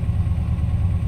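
Car engine idling at just over 1,000 rpm right after a -25C cold start, a steady close low rumble with even pulsing and no voices.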